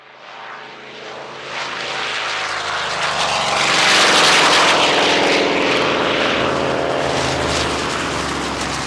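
Aircraft engine running hard during a horsepower test, a loud sustained roar with a propeller-like drone that builds in intensity and holds steady, with no voices.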